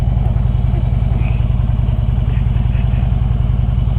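Riding lawn mower engine running steadily up close, a loud, rhythmic low chugging idle with light mechanical clatter throughout and no talking.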